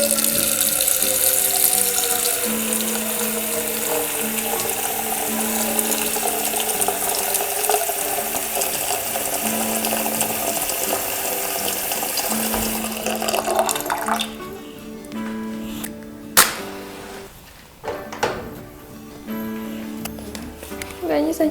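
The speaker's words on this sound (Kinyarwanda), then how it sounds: "isafuriya ndi gutekeremo nshyiremo amazi." Water runs steadily from a tap into a cooking saucepan for rice, a continuous close splashing rush for most of the time before it stops, followed by a few clanks and handling sounds of the pot.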